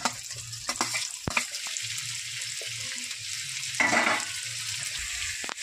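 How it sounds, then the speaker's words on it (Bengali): Onion and capsicum stir-frying with ginger and garlic, for chilli chicken, make a steady moderate sizzle, broken by occasional scrapes and clatters of stirring and a brief louder crackle partway through. "এবার দিয়ে দেবো পেঁয়াজ আর ক্যাপসিকাম, হালকাভাবে এর সাথে একটু কষিয়ে নেব"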